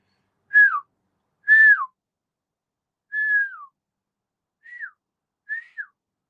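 A person whistles an imitation of an osprey's call: five short, clear, downward-sliding whistled notes in an uneven sequence, close and loud with silence between them.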